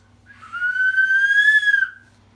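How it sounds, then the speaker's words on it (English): A small toy whistle from a candy toy blown once, a single clear, steady high tone lasting about a second and a half, loud and close with little else around it. "and then a whistle."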